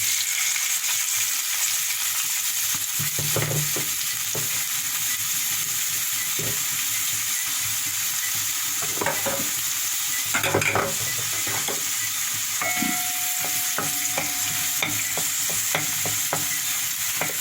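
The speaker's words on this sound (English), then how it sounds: "So this will stir fry for about 1 minute before I then add my garlic and ginger." Onions and spring onions stir-fry in a hot pan for Jamaican-Asian noodles, giving off a constant loud sizzle, broken now and then by the scrape and clack of a utensil moving them around.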